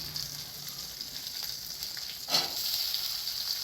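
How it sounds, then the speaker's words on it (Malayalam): Onion, ginger and curry leaves sizzle in hot oil in a pan, a steady hissing fry that swells louder midway as more goes in, then keeps crackling evenly to the end. "നമുക്കിതാ ഈ ഉള്ളിയും കൂടെ ഇതിനകത്ത് കൊടുക്കണം"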